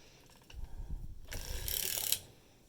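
A latch needle clicked up on a circular sock knitting machine cylinder, a run of close mechanical ticks and ratcheting rattles building to a brighter metallic burst, then quickly fading.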